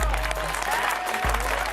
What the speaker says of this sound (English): Clap it up for these coaches out here.